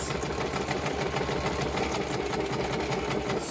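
A sewing machine runs at a steady, fast pace while stitching paper ephemera, giving a continuous rapid mechanical whir and chatter close to the listener.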